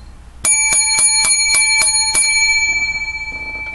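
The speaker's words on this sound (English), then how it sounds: "Seven lucky bells." A small bright bell rings in seven quick, evenly spaced strikes, loud and close, its clear metallic tone lingering and slowly decaying after the final hit.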